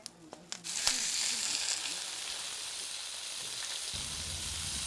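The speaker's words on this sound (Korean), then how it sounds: "고소하게 장어 굽는 소리에 순천만 가을이 맛있어집니다" Freshwater eel sizzles on a grill beside Suncheon Bay, a steady bright crackle starting after a few sharp clicks and holding evenly, with a low rumble entering near the end.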